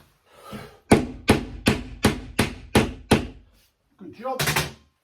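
A hammer knocks a screw into an MDF wardrobe panel: seven loud, evenly spaced blows in quick succession, then a short pause and a brief scraping, rattling burst.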